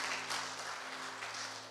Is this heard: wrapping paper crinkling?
no